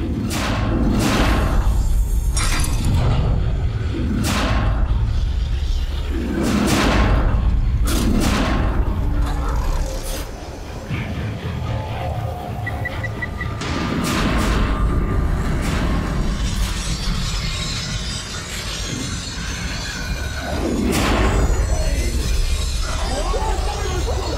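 Heavy booming thuds from bombs exploding in The Evil Within horror game, several loud blasts spaced every few seconds over a dense rumbling backdrop, with a voice talking over them.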